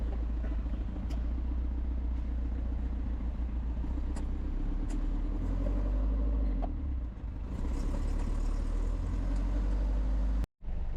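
Traffic with a car engine idling nearby: a low, steady rumble with passing vehicle noise and occasional faint clicks, continuous for the whole stretch and fairly quiet.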